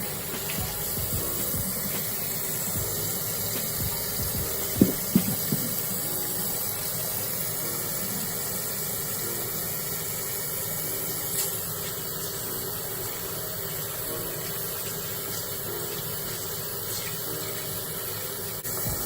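Running water washes over a makeup brush in a sink, a steady broadband rush from start to end, with a few brief splashy knocks near the fifth second and no talking.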